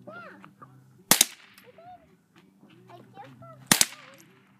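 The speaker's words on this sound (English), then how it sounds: "we're just shooting up one of our old computers" Two sharp, loud gunshots fired at an old Dell computer outdoors, spaced a few seconds apart, with a voice reacting between them.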